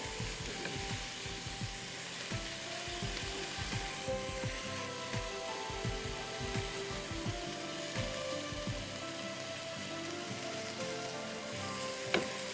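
Beef mince sizzling in a dry pan with no oil, a steady crackling fry heard alone with soft scraping and stirring taps throughout.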